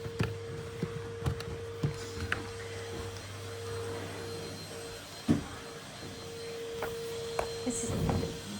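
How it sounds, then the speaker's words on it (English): Two vacuum cleaners run at once while cleaning a lounge, one on the windows and one on the floor, a steady droning hum with occasional knocks and bumps throughout. "This is double vacuuming."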